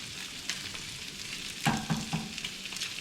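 Shrimp for pad thai sizzle in a hot pan, a close, moderate frying hiss broken by a few sharper clattering stir strokes midway, with no voices.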